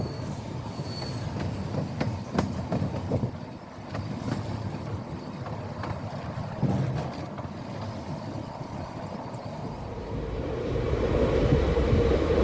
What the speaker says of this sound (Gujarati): આપણી ટ્રેન ખૂબ જ ઝડપથી સ્પીડ અચીવ કરી રહી છે પાછી।